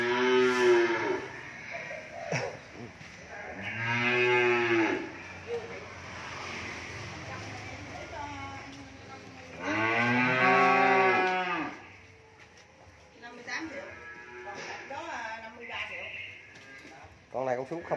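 Cattle at a cattle farm in Mỏ Cày Bắc give several long, loud moos, with a few calls close by and others further off, while people talk in between.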